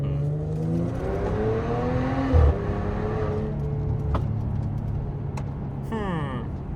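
The engine of a Porsche Cayenne 2.9 TFSI SUV revs hard on a dual carriageway during a test drive. Its rising pitch sweeps up through the gears, with a short gear-change break, and the road and cabin noise stays close throughout.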